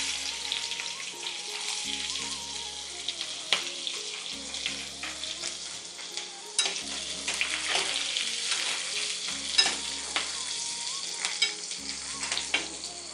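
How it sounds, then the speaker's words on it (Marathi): Onion frying in a generous mix of oil, ghee and butter for Punjabi dal makhani, a continuous bright sizzle with occasional stirring clicks and scrapes, close-up and steady, with no one speaking. "कांदा टाकते पहिले"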